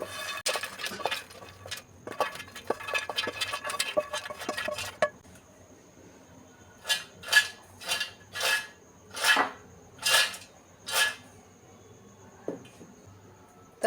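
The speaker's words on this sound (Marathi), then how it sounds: "तर मी आता मखाने टाकून घेते मिक्सरमध्ये." Roasted makhana (fox nuts) tipped into a kitchen mixer jar: first a busy stretch of light clattering and rattling, then a run of about six separate, evenly spaced rattling pours, each close and crisp.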